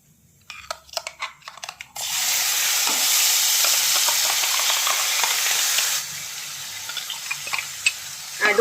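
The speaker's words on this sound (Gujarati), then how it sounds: "હિંગ નાખ્યા પછી આપણે આ ડુંગળીની ગ્રેવી છે એ આપણે નાખી દઈશું" Onion gravy hits a hot pan already holding cloves, bay leaf and asafoetida, bursting into a loud, steady sizzle that later drops to a quieter frying hiss, with a few scraping taps before it starts.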